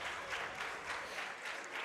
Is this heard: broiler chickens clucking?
no